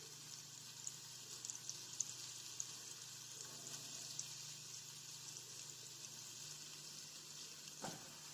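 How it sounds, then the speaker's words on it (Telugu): Paneer pieces fry in a pan with a steady, soft sizzle of hot oil, low-level and continuous, with a faint crackle throughout and a brief clink near the end. "జాగ్రత్తగా టర్న్ చేసుకుంటూ గోల్డెన్ కలర్ వచ్చేంత వరకు ఫ్రై చేసుకుందాం"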